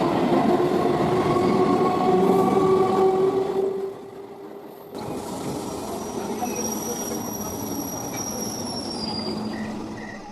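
A midnight train runs on rails with a continuous rumbling roar and high wheel squeal, dipping briefly before the steady clatter resumes.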